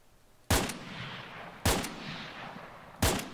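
Three loud, sharp rifle shots from the video game Arma 3, each a hard crack followed by a long rolling echo, spaced about a second apart with no talking.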